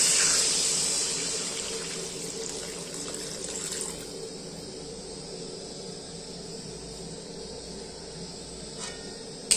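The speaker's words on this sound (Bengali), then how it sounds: "এবার আমি জল দিয়ে দেবো।" Water poured into a kadai for a rohu fish curry, a steady rushing pour that starts loud and gradually softens over several seconds into a continuous trickle, ending with a small clunk.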